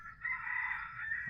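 A hybrid rooster crows once, a sustained clear call lasting about a second, fairly close and alone with faint background noise.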